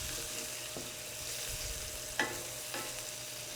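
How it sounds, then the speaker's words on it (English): Shallots and herbs frying in butter in a pan, a soft continuous sizzle with a couple of sharp scrapes and taps from a wooden spoon stirring near the bottom, close and fairly quiet. "I'm kind of scraping the bottom here with that butter, the herbs"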